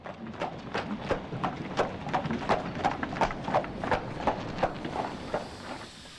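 Hooves clip-clop in a steady, even walking rhythm as a horse-drawn tram passes nearby on the Isle of Man, continuous over several seconds with a faint background hum.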